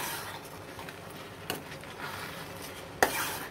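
Spoon stirring a thick raw mango chunda mixture in a pot, a soft continuous scraping swirl with two sharper clinks against the vessel, close and steady.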